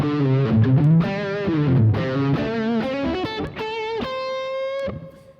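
A Westone Pantera X390 electric guitar with both pickups on in the middle setting plays through heavy distortion: a loud strummed riff of chords, settling into sustained ringing notes near the end.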